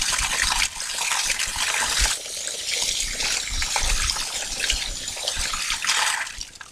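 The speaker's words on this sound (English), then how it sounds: "You're just going to squeeze all the extra bleach out." Bleach-soaked fabric being wrung out by hand, giving a steady gushing, splashing wash of liquid with short trickling bursts, close and fairly loud throughout.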